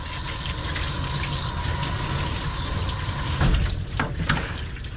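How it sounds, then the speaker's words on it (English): Water pours steadily over a dog being rinsed of dirt and soapy water during a bath, a continuous splashing flow with a few heavier splashes toward the end. "continuous clean soapy water over the dog, washing away dirt and debris"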